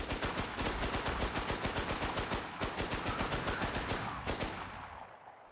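Three-round bursts of gunfire from a weapon in the Warzone video game, repeated in a steady rapid rhythm of loud sharp cracks, close and continuous, tailing off at the end.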